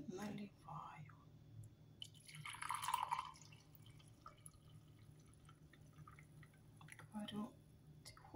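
Freshly brewed coffee poured from a press pot into a cup in a home kitchen in the morning: a quiet, soft trickle of liquid, faint and close, with low background noise.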